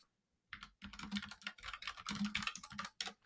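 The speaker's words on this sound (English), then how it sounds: "As I hammer away on my mechanical keyboard." Rapid clacking keystrokes on a mechanical keyboard, close and crisp, come in an irregular burst of hammering after a brief silence, with no voices over them.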